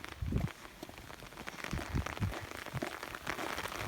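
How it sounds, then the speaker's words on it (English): Rain patters onto an umbrella in a soft, irregular stream of drops, quiet and close, with no voices. "Oh my god, rain is coming faster."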